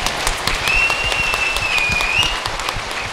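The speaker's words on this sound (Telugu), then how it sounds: "give a big hand over Patri sir" Audience at a women's meditation interview session applauds Brahmarshi Patriji with steady, sustained clapping throughout, and a faint whistle-like tone drifts over it midway.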